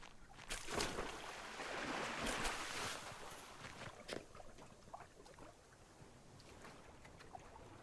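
Boat sailing across open water in the online game BitCraft Online, with steady wash of waves and wind swelling early then settling into a softer continuous surge, a few faint clicks scattered through.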